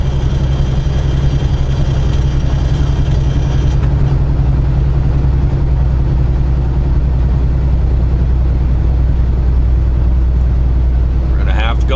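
A truck's engine drones loud and steady after shifting into ninth gear while climbing a mountain grade on Route 55 near Moorefield, West Virginia, a deep constant rumble with no break.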